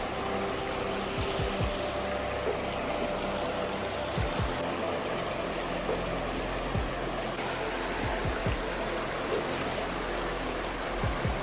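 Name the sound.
river stream water flowing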